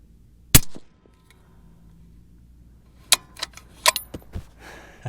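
A 7mm-08 rifle fires Barnes 171 loads at a range: one sharp close shot, a pause with faint background noise, then a quick cluster of loud cracks and clinks.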